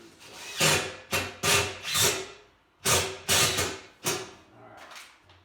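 Piercing screws driven by a power tool into a tactical kit, in about seven separate bursts, each a sharp whirring grind that tails off. The bursts come in two quick groups of four and three, with a fainter one at the end and no talk.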